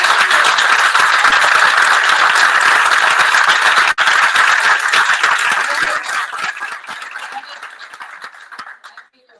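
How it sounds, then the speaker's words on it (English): A crowd claps loudly and steadily for several seconds, and the applause then thins out and fades to silence. "a big clap for all of them."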